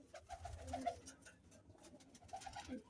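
Soft, low pigeon coos repeat in short bursts, faint and somewhat distant against quiet background noise.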